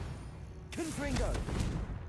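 A Confringo explosive spell goes off in Hogwarts Legacy: a sudden noisy burst hits, then a crackling, rumbling tail lingers under a voice that speaks over it.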